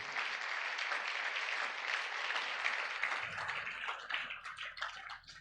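A church congregation bursts into steady, dense applause that carries on for several seconds, many hands clapping together in a reverberant room before it begins to thin out near the end.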